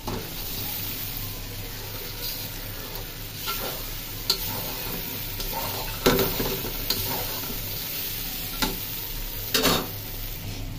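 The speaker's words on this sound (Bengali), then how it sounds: "মশলাটাকে ভাজা ভাজা করে নিচ্ছি" An egg fries in spiced masala for an Indian-style egg bhuna: a steady sizzle runs throughout, with occasional sharp scrapes and clinks of a spatula stirring in the pan.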